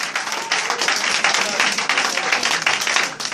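Church congregation applauding together, a dense, steady wash of many hands clapping at moderate loudness, filling the room throughout, with a voice faintly audible beneath.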